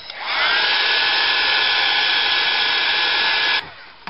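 A hair dryer blows steadily at close range, drying acrylic paint on a bird house, a loud constant whirring roar with a faint whine that cuts off abruptly near the end.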